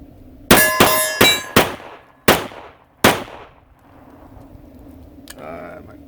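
A handgun fired at a range with cheap range ammo: a quick string of loud, sharp shots, about five close together and then another after a short gap, each ringing with a metallic tail.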